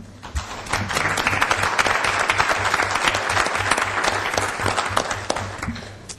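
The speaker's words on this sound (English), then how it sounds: "applause for her." An audience applauds at a parks and recreation commission meeting, a dense round of clapping that stays steady for about five seconds before tapering off, with no talking over it.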